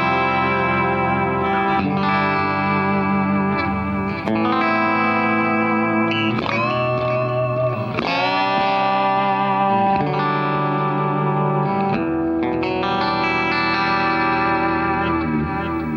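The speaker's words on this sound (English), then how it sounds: "if I'm playing my clean sound, listen to the kind of the chords, the space you get between them" Electric guitar plays slow clean chords through a delay effect, each strum ringing out with echoing repeats that fill the space between changes, steady and close without talk.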